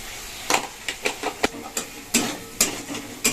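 A ground spice paste of ginger, cumin and chili frying in a pan as turmeric and salt go in, with a soft sizzle under repeated scraping stirs that land in a loose, uneven rhythm.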